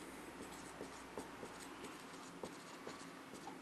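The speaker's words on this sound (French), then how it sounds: "je vais tout écrire" Pen or chalk writing out a degree-2 polynomial by hand, a steady faint scratching with small taps and strokes running through the whole stretch, quiet and close with no talking.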